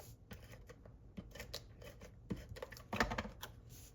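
Paper trimmer or scissors cutting excess designer paper while making a handmade card, heard as soft, quiet clicks and short scraping cuts with a slightly sharper snip near the end.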